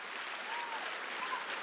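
Church congregation applauding steadily throughout, a dense even wash of clapping with no talk over it.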